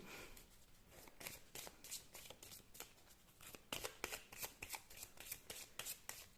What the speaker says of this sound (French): vous pouvez avancer la vidéo si ça vous énerve de me voir battre les cartes